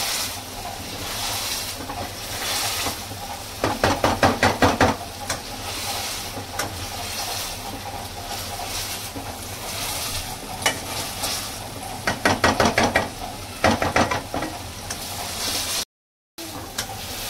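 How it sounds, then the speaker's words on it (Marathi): Onion and tomato are smashed in an oily pan with a pav bhaji masher, giving two bursts of rapid rhythmic thumping over a constant low sizzle and occasional stirring clinks. "आता हे पावभाजीचा स्मॅशर घेऊन हे मस्त कांदा टमाटर ह्याच्यामध्ये स्मॅश करतायत"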